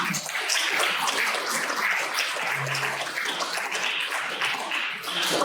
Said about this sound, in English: It's another round of applause, Martin.